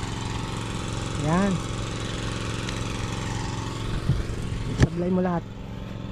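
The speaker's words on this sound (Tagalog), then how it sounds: "para magagrass cutter ko yung no?" A grass cutter engine drones steadily throughout at a constant pitch, close and moderately loud, while people talk briefly over it in Tagalog.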